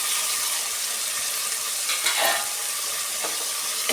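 Chopped tomato frying in a pan for akki usli, a steady close sizzle with a brief stirring scrape midway, no voices.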